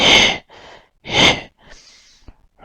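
A person imitates a monster's panting with loud, close breathy huffs: two strong exhales separated by quieter inhales, then a softer rasping breath ending in a brief click.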